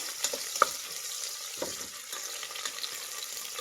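A soft, close sizzle comes from onion and raw green peas frying together in a pan for pulao. Scattered light taps and stirring scrapes run through the steady hiss.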